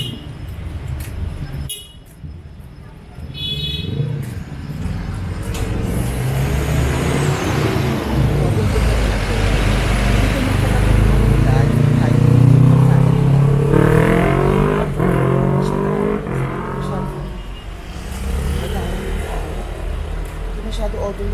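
Busy street traffic in Ubud, Bali, with cars and motorcycles passing nearby in a steady rumbling flow, engines revving and an occasional horn toot, while a person talks over it throughout.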